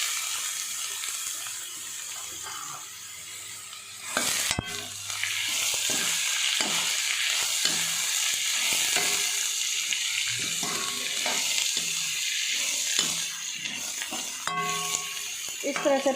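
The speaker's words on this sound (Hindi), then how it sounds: "5 मिनट हम मूली को इसमें तेल में गरम कर लेंगे।" Radish pieces frying in hot oil in a pan, a steady sizzle with repeated scraping stirs and a few sharp clatters, no talking.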